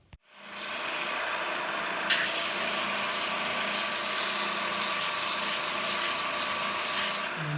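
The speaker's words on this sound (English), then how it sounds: "And after a couple of minutes of sanding," A power sanding tool whirs steadily against a bone guitar nut blank, starting up abruptly and then holding a constant high-pitched grinding whine, close and loud.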